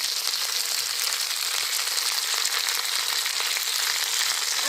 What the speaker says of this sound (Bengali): আর এবার কুদ্রগুলো দিয়ে খানিক্ষণ ভেজে নেব